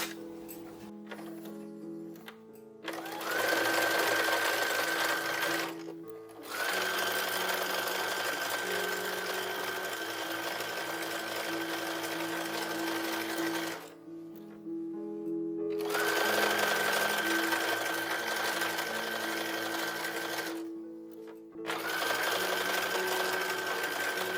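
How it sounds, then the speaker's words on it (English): Sewing machine stitching a quarter-inch seam on a 1930s–1940s style toddler dress, long steady runs of close, rapid mechanical whirring broken by brief pauses. "we'll sew the next step"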